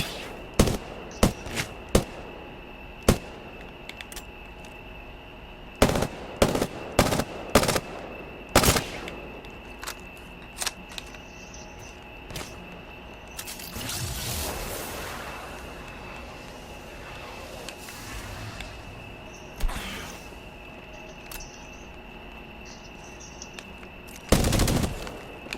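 Gunfire in the video game Apex Legends, scattered sharp shots and quick bursts at varying distances, with a noisier stretch of rapid fire midway and a final loud burst near the end.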